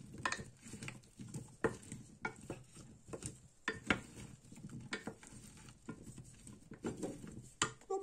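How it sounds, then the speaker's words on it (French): Marinated veal skewer ingredients are stirred together in a bowl, giving quiet, repeated wet squelches and light clinks in an irregular rhythm, close by and fairly faint. "on va mélanger tout ceci"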